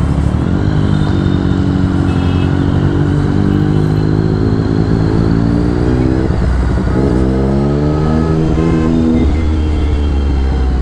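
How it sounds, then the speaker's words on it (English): Rush hour road traffic surrounds a rider on a Triumph motorcycle. A loud, continuous engine drone rises and falls with throttle changes, over a constant rumble of nearby vehicles in congested city streets. "See, I told you there's no escaping rush hour traffic."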